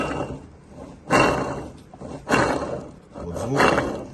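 A worn 3.15-ratio front differential on a BMW X1 E84, damaged by a failing front driveshaft and running up on a lift, gives a coarse roaring hum that swells and fades three times in quick waves.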